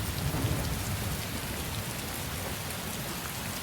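Steady rain pattering on surfaces with a low rumble of distant thunder underneath, continuous and fairly close, no voices.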